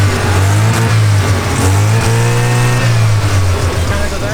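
A rotary car engine revs under throttle, its alternator not charging, as a loud, steady rasping drone that rises and falls slightly throughout, close up, with people talking over it.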